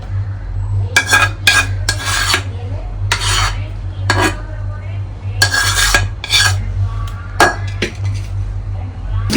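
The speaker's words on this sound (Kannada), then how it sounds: "ಬಿಸಿಯಲ್ಲೇ ನಾವು ಇದನ್ನ ನೀಟಾಗಿ ಮಿಕ್ಸ್ ಮಾಡ್ಕೊಳ್ಳೋಣ" Hot date paste for dry fruit laddu being stirred and scraped with a metal utensil in a bowl, close and loud strokes in uneven bursts over a steady low hum.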